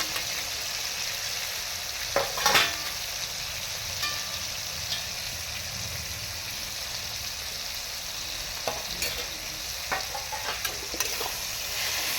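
Spice pastes of green chilli, ginger and cumin fry in a pan for a fig curry, making a steady sizzle broken by scattered spatula scrapes and clinks.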